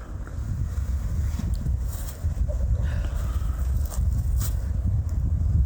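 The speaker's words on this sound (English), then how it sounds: "it is kind of windy. Windier than I thought it was going to be." Steady wind on a cold mountain rumbles and buffets the microphone throughout, a loud low roar with no clear voices.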